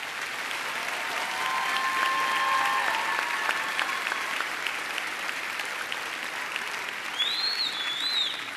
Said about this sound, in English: would everyone join me in giving a warm round of applause for this dedicated group?